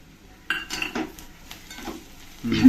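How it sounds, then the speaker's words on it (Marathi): Jackfruit vegetable being stirred in a pan with a spoon, giving close metallic scrapes and clinks at irregular intervals over a faint sizzle, then a louder scraping rush at the end. "परतून घेऊया, आणि थोडी कोथिंबीर आता टाकू"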